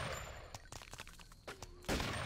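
Gunfire from the video game Deus Ex: Revision: a rapid string of sharp shots crackles in bursts, with louder blasts near the end, fairly faint overall.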